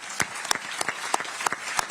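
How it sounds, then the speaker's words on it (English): An audience at a Spokane mayoral candidate primary forum gives sparse applause: a handful of scattered, sharp claps spaced irregularly, moderately close, with no speech over them. "you can applaud now if you would like to"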